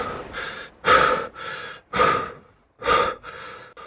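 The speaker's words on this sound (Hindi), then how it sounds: "सांस तेज तेज चल रही थी।" Heavy, rapid breathing close by: several quick, loud breaths in a broken rhythm, with short pauses between them and no talking.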